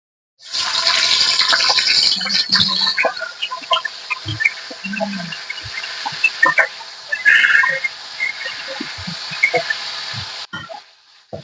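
Coated pointed gourd (potol) pieces drop into hot mustard oil in a kadai, setting off a loud, sustained sizzle that carries scattered crackles and pops, easing and cutting off near the end.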